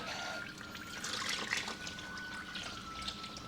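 Fluids trickle and splash steadily from disconnected power steering and coolant hoses while a Mk4 engine is being pulled, a continuous faint liquid dribble with a few louder splashes and no voices.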